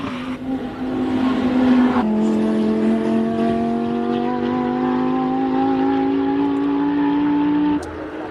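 An Audi R8 race car, not stock, climbs a hill-climb course, its engine note loud and close as it accelerates, with a gear change about two seconds in and a steady high rev that cuts off near the end.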